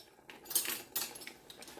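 A Spanish-style chicken sauce mixed in a bowl with a utensil: soft, quiet scraping and light clinks in a few uneven strokes, close by with no voices.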